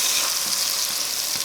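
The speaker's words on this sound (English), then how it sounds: "Sizzling." A steady, close hiss and crackle of laksa spice paste frying in hot coconut oil, with no talking.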